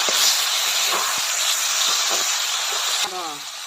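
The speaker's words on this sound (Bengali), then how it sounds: "কচু ডাঁটাটা যে আগে সিদ্ধ করে রাখা হয়েছিল সেইটা এবার ওই মশলাতে ঢেলে দেওয়া হবে" Boiled taro stems are poured into a hot spice mixture over a wood-fired stove, setting off a loud, gushing sizzle that fades as a voice begins talking at the end.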